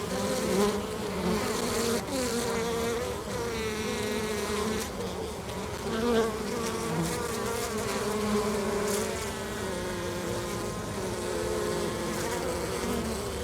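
Honey bees buzz steadily and densely at the entrance of their hive after a cleansing flight in early spring, a continuous close swarm hum with no voices.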